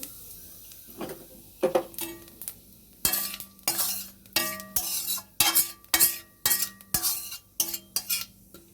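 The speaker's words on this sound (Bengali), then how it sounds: "দেখো কালো জিরে ফোড়ন দিয়ে দিচ্ছি।" Nigella seeds tempering in hot oil in a kadai, with a spoon scraping and stirring in quick rhythmic strokes over a soft sizzle, close and clear with no voices.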